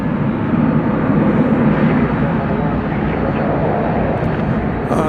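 A Boeing 757 airliner at DFW airport at night gives a loud, continuous broadband engine roar that holds steady throughout, close and unbroken.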